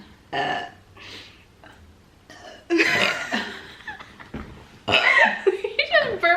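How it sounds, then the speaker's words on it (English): Several loud belches erupt between brief spoken words, close and raspy, with a burst of voices and laughter-like noise near the end. "You just burped like 5 times."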